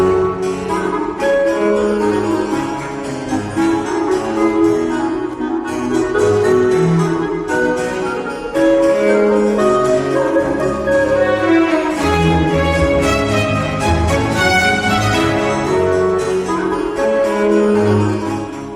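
A chalumeau, the early predecessor of the clarinet, plays a reedy melody within an ensemble texture, sustained and continuous for nearly twenty seconds at moderate loudness, with no talking.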